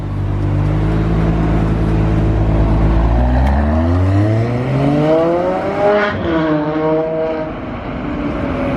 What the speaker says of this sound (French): Et on va peut-être entendre le V12 en plus de ça.